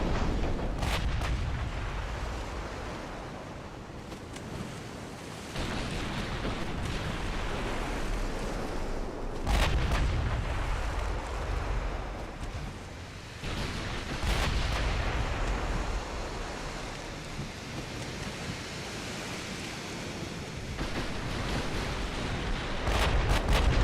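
Heavy 16-inch battleship guns firing in the naval game Ultimate Admiral Dreadnoughts, heard as repeated loud, deep booming salvos over a constant roar like surf and wind, with several sharp blasts spaced a few seconds apart.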